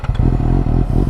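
A 2019 Suzuki GSX-S750 motorcycle engine idles loud and close, with a steady low throb and a brief blip at the start, then a continuous rumble with no one speaking.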